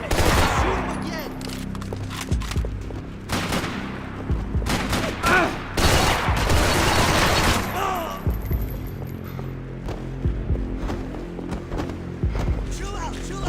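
Loud, chaotic gunfire from the video game Max Payne 3, with repeated shots and bursts booming over a steady game soundtrack hum, while voices shout intermittently throughout.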